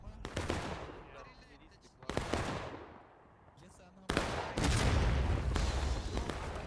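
Massed musket volleys crack in the Civil War game War of Rights on the Hagerstown Turnpike map, three loud ragged bursts each trailing into rolling echoes, the last swelling into sustained fire, with voices faintly between.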